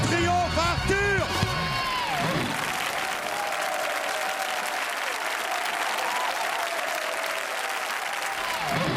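A French TV studio audience at a Saturday-night karaoke show bursts into loud applause and cheering, with a voice heard over the opening seconds before the dense clapping carries on alone to the end.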